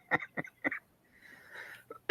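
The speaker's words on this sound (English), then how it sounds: "Man, I'm tired of this cough." A few short, quiet coughs in quick succession, followed by a soft throaty rasp and a sharp sound cut off at the end.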